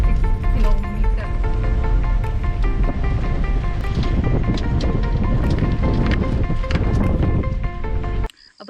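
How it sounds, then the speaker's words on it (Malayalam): Cold wind blows on the hilltop route to Kurishumala in Vagamon, Idukki, a loud, constant rushing buffet against the microphone that drops away abruptly just before the end. "നല്ല തണുത്ത കാറ്റ്."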